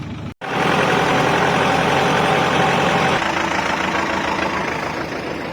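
A loud tractor engine runs steadily and close by with a deep, rough rumble, briefly cutting out at the start, then holding a constant idle-like drone.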